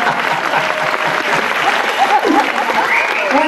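Audience applause with some cheering fills a Christmas concert hall, steady and loud throughout, with faint voices and whoops rising above the clapping.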